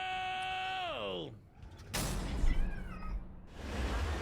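A cat meows in a long, drawn-out wail that slides downward in pitch, followed by noisy rustling and a second shorter cry, close and fairly loud.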